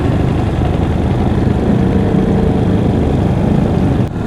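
Motorcycles on parade laps around the Barber Motorsports Park road course, a steady low engine drone close by, loud and continuous with a brief dip near the end.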